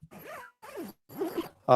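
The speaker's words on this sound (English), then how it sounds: "You can zip that one down too." Three quick pulls of a tent window zipper rasp in succession, close and crisp, each a short rising zip, followed by a brief clunk at the end.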